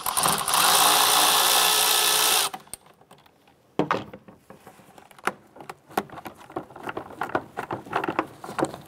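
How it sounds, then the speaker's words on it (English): Socket ratchet loosens an 8mm hose clamp on a 1994-2004 Chevrolet S-10 radiator job, heard as quick close clicks and metallic taps after a loud, steady burst of broadband noise. "Using the same 8mm socket to go ahead and loosen this hose clamp."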